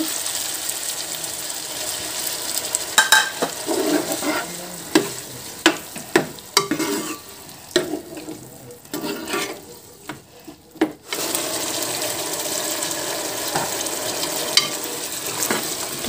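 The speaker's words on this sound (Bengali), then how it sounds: "এর মধ্যে সামান্য পরিমাণ জল দিয়ে দেব।" Water splashes into chicken kosha cooking in a pan, followed by close, intermittent stirring scrapes and a steady sizzle and bubbling of frying.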